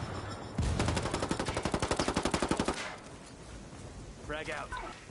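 First-person shooter video game gunfire: a rapid, evenly spaced burst of automatic fire of roughly two dozen rounds lasting about two seconds, then quieter game ambience with a brief voice.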